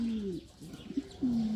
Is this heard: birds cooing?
yes